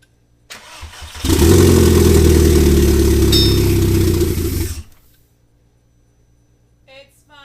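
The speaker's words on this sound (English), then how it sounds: "It's fired up." Car engine fires and runs loud and close for about four seconds before cutting out abruptly, a rough first start after reassembly on a daily car being turned into a track car, followed by near silence.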